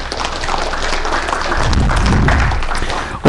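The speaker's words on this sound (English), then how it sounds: "Let's give Charles a round of applause" Applause for Charles fills a city council meeting chamber, a dense wash of clapping that swells midway and holds steady for a few seconds before cutting off abruptly.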